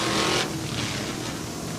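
Brown Trucking Crown Vic Juniors race cars run under green at Swainsboro Raceway in Swainsboro, Georgia, a loud, close engine roar that surges briefly and then settles into a sustained drone.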